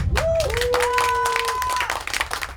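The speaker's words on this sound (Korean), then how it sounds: "이정아 회장님께 우리 큰 박수 먼저 일단 보내주십시오" Audience applause for a club president at a Dokdo-guardian Green Union summer training session, a short burst of clapping beneath sustained tonal music notes.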